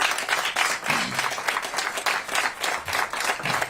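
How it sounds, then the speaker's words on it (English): Applause from a press-conference audience in Seattle, with Mayor Harrell and the police chief present to discuss crime and a new public safety plan: steady, dense clapping from many hands, sustained and fairly close throughout. "And I'm going to solicit an applause for that right now because I'm very excited about that."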